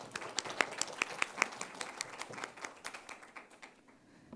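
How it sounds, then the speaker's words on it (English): Scattered applause from the audience at a university inter-varsity debate final, a thin spread of distinct hand claps that peaks early and then tapers off into quiet. "Let's give them a warm round of applause."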